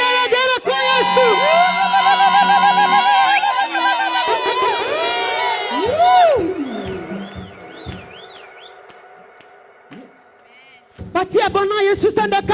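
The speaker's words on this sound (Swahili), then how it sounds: "Wapige na vigelegele kwa Yesu." A worship conference crowd ululates loudly in praise of Jesus, high trilling voices layered together for several seconds, then thinning out before a fresh burst of shouting and cheering near the end.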